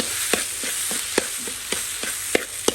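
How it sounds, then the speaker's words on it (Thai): Rice being stir-fried in a pan over a steady, loud sizzle, with a spatula scraping and knocking against the pan in a regular rhythm roughly every third of a second, close by and with no voices. "ตกเย็นมาผัดข้าว"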